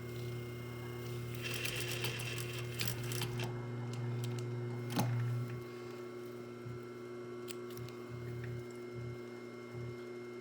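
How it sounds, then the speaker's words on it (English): Sewing machine stitching a shirt placket diagonally at a 45-degree angle, a quiet steady motor hum with faint mechanical ticking, pausing and restarting in short bursts toward the end. "I'm just going to sew just at a 45-degree angle across here, just to stop it from kind of opening up in the wash."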